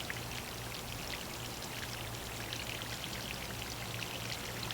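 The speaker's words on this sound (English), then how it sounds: "I'm going to go ahead and give this some more water to settle the soil in around the roots" Water poured onto garden soil around a freshly transplanted Concord grapevine, a steady continuous rushing splash that stays close and even for several seconds, with no talk.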